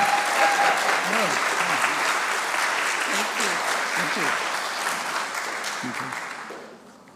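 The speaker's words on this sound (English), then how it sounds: "Can we have a round of applause for our wonderful treasurer, Armin Coleman, please?" Sustained applause from a congregation at an annual meeting for their treasurer, steady dense clapping that fills the room and gradually fades out near the end.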